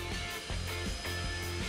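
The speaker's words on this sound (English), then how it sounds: "You could go up and down with it with a quick drill from on top of the dock" A power drill whirs in bursts while it raises a boat dock at a boat show, a buzzing motor hum that stops and restarts several times in quick succession.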